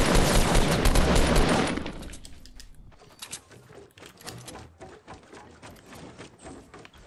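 Rapid bursts of Fortnite Battle Royale gunfire ring out loud at first, a dense fusillade that fades into scattered, quieter shots and clatter near a player-built base.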